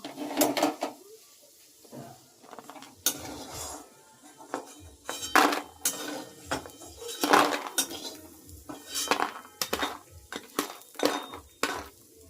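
Fried lentil dumplings lifted from a pan with metal utensils, giving irregular clinks and scrapes of spoon against pan, close and intermittent, with faint sizzle and a few soft knocks between strikes.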